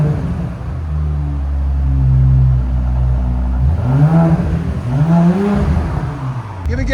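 2019 Audi S7 with a 2.9L twin-turbo V6 and straight pipes, new diffuser and tips: a deep, loud idle rumble close by, then two rising and falling revs with a raspy exhaust note.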